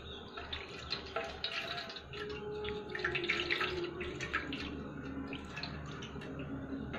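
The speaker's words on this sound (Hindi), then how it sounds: "धीरे धीरे पानी डालेंगे," Water is poured slowly over a deity idol during a morning bathing ritual, giving a steady, soft trickling and splashing with no talk.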